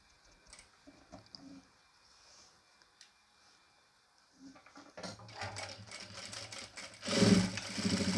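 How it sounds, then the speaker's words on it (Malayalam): A sewing machine stitches the neckline of a nightie, starting after a few seconds of near quiet with faint scattered clicks, then running loud and continuous with a rapid mechanical rattle to the end. "ഇതൊന്ന് ഇവിടെ വെച്ചിട്ട് നമുക്കൊന്ന് തയ്ച്ചു കൊടുക്കാം"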